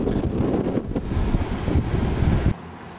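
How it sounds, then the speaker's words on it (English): Strong gusty wind on an exposed coastal trail along Kauai's Na Pali coast buffets the microphone in a steady roar, then drops sharply to a quieter hush near the end. "It's a lot more open and exposed and hence a lot more windy."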